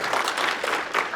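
Audience applause at a conference lightning talks session, a dense, steady wash of clapping from a crowd filling the short stretch at even loudness with no voices over it.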